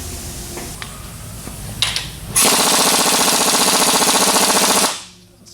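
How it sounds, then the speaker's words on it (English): A half-inch impact gun hammers loudly in one sustained, rapid rattling burst of about two and a half seconds while loosening tight bolts on a 6.0 Powerstroke diesel engine, after quieter shop noise and a few clanks. "Need a bigger impact gun."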